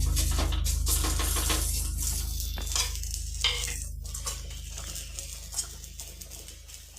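Chapati frying with a little oil on a hot iron griddle, a steady close sizzle with soft scraping and patting of the flatbread throughout.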